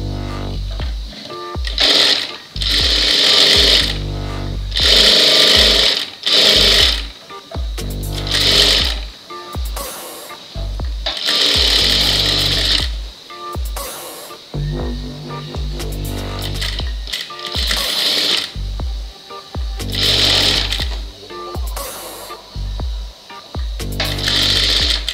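A sewing machine stitches a blouse in repeated loud, close bursts of rapid mechanical whirring, each run starting and stopping with short pauses between seams.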